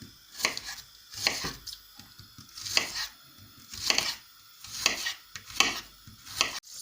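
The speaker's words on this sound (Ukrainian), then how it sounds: "Тим часом я буду нарізати цибульку" A knife dices onion steadily on a cutting board, about a dozen crisp, close strikes arriving in quick bursts with short pauses between them, and no one speaks.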